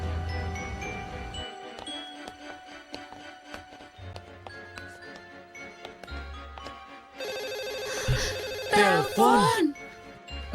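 A telephone bell rings repeatedly in a domestic drama scene, bright trilling bursts over background music, growing more prominent toward the end as a voice speaks over it.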